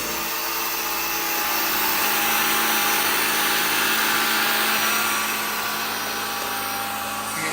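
A Bissell AirRam cordless upright vacuum runs over carpet with a loud, steady whirring motor drone that swells slightly in the middle, close and continuous with no talk.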